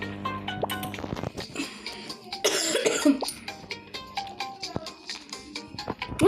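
Several sharp coughs come in short bursts over a busy background of clicks and game-like noises, fairly close and loud.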